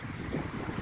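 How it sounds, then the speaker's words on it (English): Rough, gusty wind roars steadily across the microphone at Preston Sands beach, blending with a broad wash like distant surf. "On a really rough, windy day."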